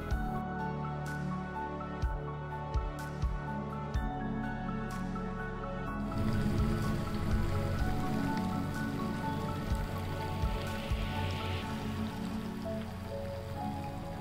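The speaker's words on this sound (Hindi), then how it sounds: "अब हम इसे अच्छे से फ्राई कर लेंगे।" Jalebi batter frying in hot oil, a dense, even crackling sizzle that rises a little partway through and carries on steadily, close and continuous.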